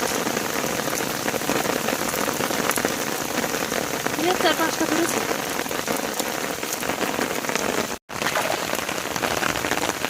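Heavy rain pours onto a river and muddy bank during a fishing trip in a storm, a dense, loud patter that persists throughout, with brief talk over it and a momentary dropout near the end.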